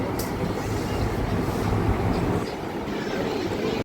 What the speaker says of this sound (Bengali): অবশেষে ট্রেন গুয়াহাটি স্টেশনে এসে পৌঁছলো।